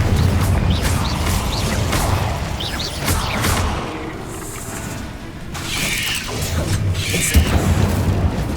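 Incendio fire spell cast in Hogwarts Legacy, with whooshing bursts of flame and booming impacts amid combat noise; the effects come in several loud waves with quieter gaps between them.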